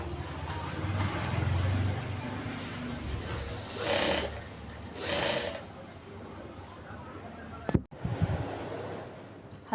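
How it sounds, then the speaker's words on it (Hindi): A sewing machine runs in bursts while stitching the pieces of a ruffle-sleeve blouse, a steady close whirring with a couple of louder swells and a sharp clunk near the end. "इसको सिलते हुए चले जाएंगे"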